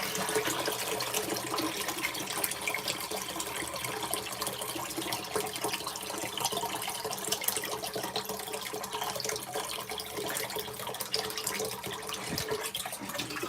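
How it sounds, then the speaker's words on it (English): Water from an LG ThinQ washing machine drain hose rushes steadily into a sink, a constant splashing gush with no pauses, close and continuous. "You can see there's a big amount of water coming through that drain hose there."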